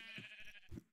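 Minecraft sheep bleating in a short wavering call, fairly faint, with a second brief bleat starting right at the end.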